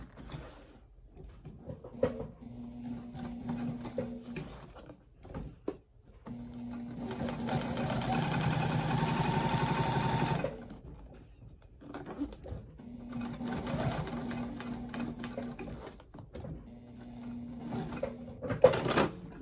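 A sewing machine stitches a crossbody bag in three long bursts of steady, close mechanical whirring, separated by short pauses and quieter handling sounds.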